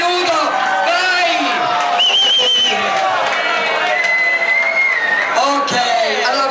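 At a club show, a packed crowd shouts and cheers together in a loud, continuous roar, with whoops and high-pitched yells standing out from the noise.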